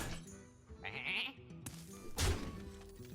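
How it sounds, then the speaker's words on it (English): Sheep bleat in the Hearthstone card game, a short wavering animal cry over layered game sound effects and music, followed by a heavy thump. "It's just a sheep."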